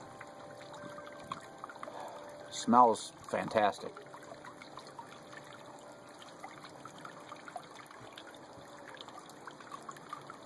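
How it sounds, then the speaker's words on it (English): Water poured into a glass of 95-proof Jim Beam bourbon whiskey, a brief trickling burst in a quiet room, with a voice speaking after it. "Now being 95 proof, I will add some water."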